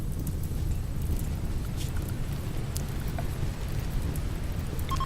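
Rain falling in the video game RimWorld: a soft, steady hiss over a low rumble, with a few faint scattered ticks, continuous and without voices.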